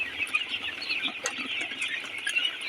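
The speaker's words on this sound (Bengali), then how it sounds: "তো এই হচ্ছে মুরগি," A flock of Sonali hens and roosters on a poultry farm clucks continuously, many overlapping calls forming a busy, uneven chatter heard at close to moderate range with no voices.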